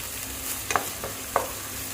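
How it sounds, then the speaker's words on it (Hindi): Ginger garlic paste fries with onions in a pan, giving a soft, steady sizzle broken by a few sharp spatula scrapes and taps. The sound is quiet and close, with no talking. "और 2 टेबल स्पून डाल देते हैं जिंजर गार्लिक पेस्ट। थोड़ा सा भूनूंगी मैं इसको"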